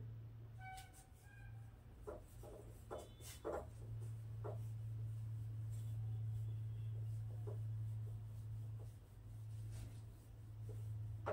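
Hand writing during a Hindi maths lesson on polynomials, with soft intermittent scratching strokes over a steady low hum, quiet and without talk.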